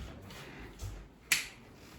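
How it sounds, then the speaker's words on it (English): A single sharp finger snap cracks out clearly in a quiet classroom, preceded by a softer faint tap, with no talk over it. "let's snap your fingers"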